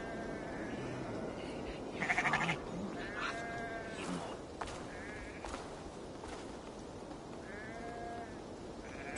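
Sheep bleating repeatedly in the video game Assassin's Creed Valhalla, several short wavering bleats spread across a busy outdoor ambience of rustling and background noise, moderately near.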